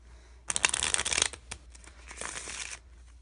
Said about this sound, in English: I'm just gonna shuffle these cards up